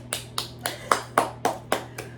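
Eight slow, evenly spaced hand claps ring out one after another, sharp and fairly close, with a faint steady hum underneath.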